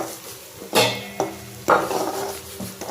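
Potato pieces frying in oil in a pan while being stirred, with a steady close sizzle broken by a few sharp metal scrapes and clanks of the spoon against the pan.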